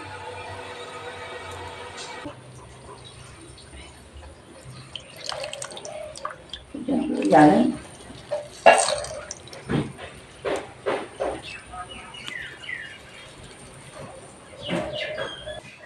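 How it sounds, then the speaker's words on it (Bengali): Soaked soya chunks squeezed by hand, water dripping and splashing out in irregular bursts of trickles and drops, fairly close, over a quiet background with faint bird calls. "তারপর ভালো করে চিপে জল ঝরিয়ে নেব"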